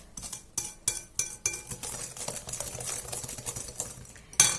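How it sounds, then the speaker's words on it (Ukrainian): A spoon stirs sugar into a dough mixture in a bowl for sweet buns, with repeated close scraping and clinking strokes and a sharper clink at the end. "Оце ми гарно перемішуємо так"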